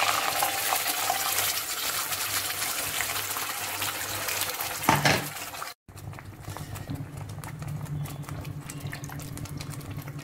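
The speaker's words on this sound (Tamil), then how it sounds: "மிக்சியில் இருக்கிற அந்த மசாலா 1/2 கப் தண்ணி சேர்த்து மிக்ஸ் பண்ணி அதையும் சேர்க்கிறேன்" Ground masala paste thinned with half a cup of water pours into a cooking green chilli gravy, a steady close liquid gush that cuts off abruptly, followed by a quieter simmering hiss.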